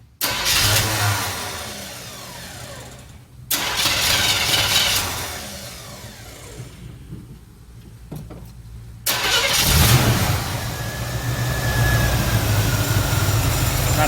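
A 1977 Chevy C10 Cheyenne pickup with a newly replaced fuel pump cranks in bursts, then catches and settles into a loud, rough idle close to the microphone, with no one speaking.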